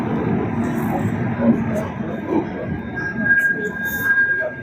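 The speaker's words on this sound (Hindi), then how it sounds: "यहाँ छी हमर सबके ट्रेन, यहाँ में जायब हमसब।" Nanda Devi Express at a railway station platform, a steady broadband rumble of the standing train and station bustle with a faint high whine, people talking nearby.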